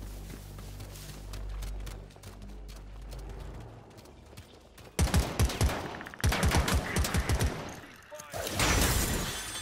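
Rapid bursts of gunfire from a fire team in Predator: Hunting Grounds, with a quieter stretch first, then loud, closely spaced rattling shots that continue under a voice.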